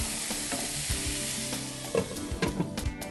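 Cabbage, green chillies and salt fry and sizzle in a pan for carrot masala noodles, a steady loud hiss with occasional stirring clinks and scrapes near the end, no voices.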